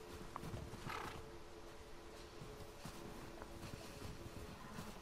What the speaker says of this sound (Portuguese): Que esse cavalo.